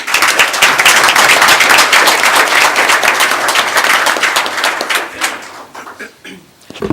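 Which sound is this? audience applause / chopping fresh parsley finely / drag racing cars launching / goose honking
audience applause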